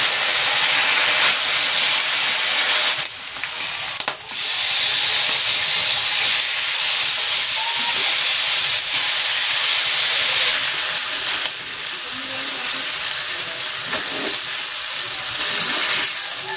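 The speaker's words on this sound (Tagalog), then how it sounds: "Pan-grill ko muna itong binabad kong liempo." Marinated pork belly (liempo) sears in a pan with cooking oil, giving a loud, continuous sizzling hiss that rises and falls slightly over several seconds.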